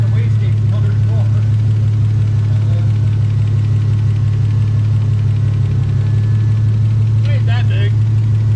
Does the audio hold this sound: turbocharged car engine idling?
yes